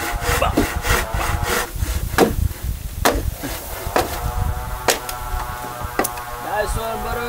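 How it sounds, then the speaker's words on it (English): Bamboo being hand-sawn at a hilltop home building site in the Philippines: a run of quick, rasping strokes, then a few sharp knocks and cracks, close and fairly loud, with outdoor background noise. "Cutting the bamboo"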